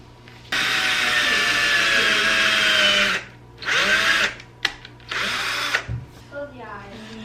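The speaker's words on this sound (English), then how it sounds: "So I had to keep re-drilling the holes in there" A power drill whirs in several bursts, one long run followed by shorter spurts with pauses between, loud and close.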